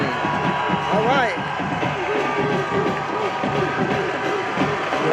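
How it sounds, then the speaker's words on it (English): A LaGrange home crowd at a high school football game against Carver roars and cheers as a continuous noisy backdrop while a commentator talks over it. "The LaGrange crowd is turned"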